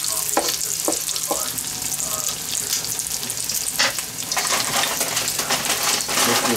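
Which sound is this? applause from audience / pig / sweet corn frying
sweet corn frying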